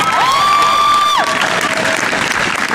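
Lively audience applause with some cheering in a hall during a Stephen Colbert talk at Knox College, dense and full throughout, with a brief high whistle-like tone rising over it early on.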